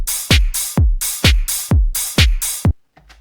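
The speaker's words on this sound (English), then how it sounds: "gonna add open hi-hats on every other 8th note in order to get that boots and cats kind of sound" Open hi-hat sample programmed in Ableton on every other eighth note alternating with booming kick hits, a steady boots-and-cats groove of crisp sizzling hats and deep thumps, ending abruptly with a faint tail.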